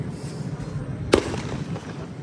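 A single sharp firework bang cracks out once against a low background hum.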